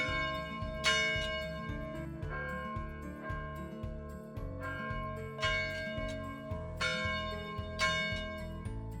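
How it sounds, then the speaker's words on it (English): An old church bell at Belleview Baptist Church, rung by hand, sounds in bright metallic strikes over a dense, sustained hum, with louder peals returning at uneven intervals of a few seconds. "we can still ring the old bell by hand"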